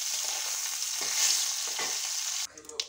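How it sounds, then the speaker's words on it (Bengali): Fish frying in a pan, a steady close sizzle that cuts off near the end into a few softer clatters. "বিড়ালটার জন্য এই মাছটা ভাজছি"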